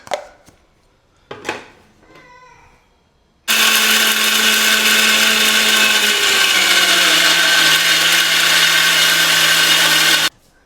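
Mixer grinder powdering dry-roasted peanuts, preceded by a few clicks and knocks, then a loud steady motor whine with grinding that holds for about seven seconds before stopping abruptly.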